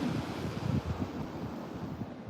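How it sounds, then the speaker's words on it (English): Ocean waves roll and break on the beach at Pine Knoll Shores ahead of a hurricane, a faint steady wash mixed with wind buffeting the microphone, no talking. "I'm gonna show you all the waves here in front of us"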